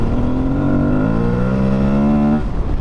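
An Aprilia Tuareg 660 motorcycle engine under way, a loud steady drone whose pitch climbs smoothly as it revs, then dips near the end, with no talking.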